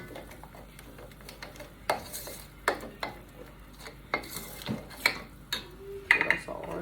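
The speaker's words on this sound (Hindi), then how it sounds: "अच्छे से मिक्स करें ताकि गुठलियाँ ना रहें।" Chicken pakora batter being stirred by hand in a bowl, producing a series of soft wet clicks and knocks against the bowl, fairly close and quiet with no talk.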